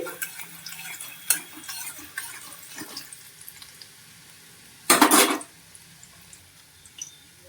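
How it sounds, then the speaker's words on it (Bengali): A soft, steady sizzle of chopped garlic frying in a pan, with clinks and scrapes of a utensil and one loud rushing burst midway. "রসুন কুচিটা ভেজে নিচ্ছি"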